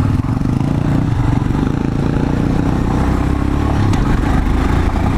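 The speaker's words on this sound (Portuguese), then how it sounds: "O motor dela é um motor bem manso, assim" Royal Enfield Himalayan motorcycle ridden off road over obstacles, its engine a steady, loud, close mid-range drone with rattling clatter underneath, continuous for the whole stretch without speech.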